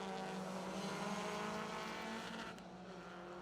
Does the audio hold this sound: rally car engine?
yes